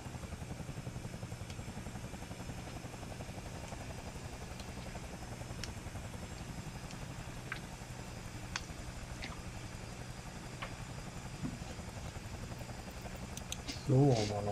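A helicopter in Flight Simulator 2020 near the Eiger North Face, its rotor thumping in a steady, rapid pulse over a low engine drone, continuing without pause, with a brief louder bump near the end.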